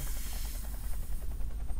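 A helicopter in the shooter game Point Blank, a rapid rhythmic rotor chop thudding over a low rumble, steady and moderately loud without talk.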